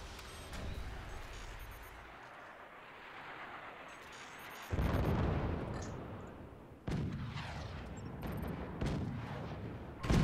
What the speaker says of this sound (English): I have a cannon ready to go soon.